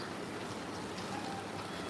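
Heavy rain falls in a steady, soft hiss that stays even and fairly faint, with no voices.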